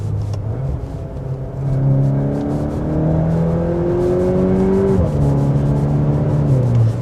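A 2022 VW T-Roc R cruising on the road, steady engine drone with rising and falling tonal harmonics as it accelerates and shifts, loud and continuous from inside the cabin.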